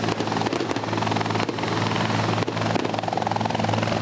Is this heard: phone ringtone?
no